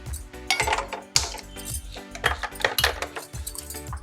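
A small cooking pan (bandi) set down on a kitchen stove, giving several clear metallic clanks and clinks spaced through the moment, close and fairly loud, with no talking.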